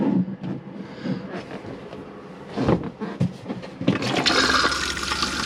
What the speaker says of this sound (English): So press the blue button, which gives you a flush.